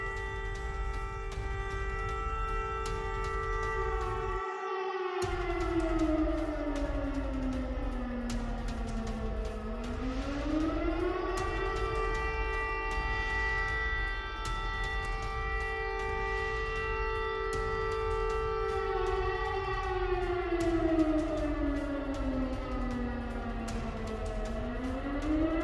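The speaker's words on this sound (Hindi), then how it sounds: "कीव में लगातार बज रहे हैं हमले के सायरन" Air raid sirens wail over Kyiv during Russian strikes, a long rising and falling tone that swells and dips in slow cycles, loud and continuous over a low background rumble.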